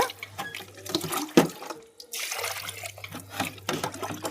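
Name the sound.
rinsing cleaned fish pieces with plain water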